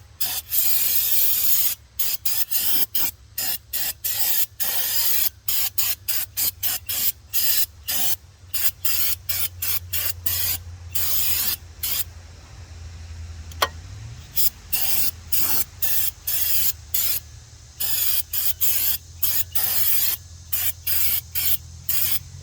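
Brake cleaner is sprayed onto Honda CR-V brake parts in many short, hissing aerosol bursts, broken by brief pauses and quiet gaps, with no voices.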